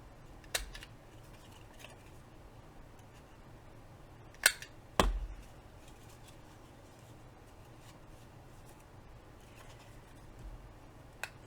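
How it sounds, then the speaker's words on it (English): A handheld corner rounder punching the folded corners of paper, giving a few sharp, crisp clicks in a quiet room, two of them close together in the middle. "Let me grab my corner rounder."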